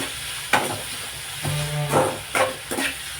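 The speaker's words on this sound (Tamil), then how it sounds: "இப்போ சும்மா லைட்டாக வதங்கட்டும்" Food sautés in a pan with a little salt. A low sizzle and hiss is broken by several distinct scraping stirs, each one close and fairly loud.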